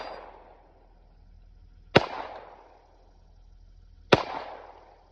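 Two loud, sharp Glock 48 pistol shots fired outdoors, spaced about two seconds apart, each with a short echoing tail and nothing else in between.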